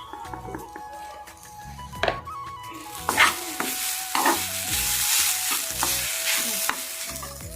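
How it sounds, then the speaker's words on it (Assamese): Grated coconut frying in a pan, with a steady sizzle and repeated scraping and stirring strokes from a utensil against the pan, close and moderately loud, alone without talk. "আৰু এইপিনে এয়া নাৰিকলখিনি ভাজিব লৈছোঁ।"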